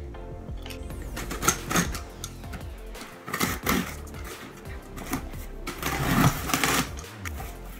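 An Amazon cardboard package being torn and opened up close, with crinkly rips, rustles and scattered clattering handling sounds, loud and uneven, no voices.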